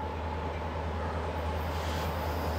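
An empty trash train rolls through Carkeek Park on a morning after rain, a steady, loud low rumble of rail cars holding constant throughout with no voices.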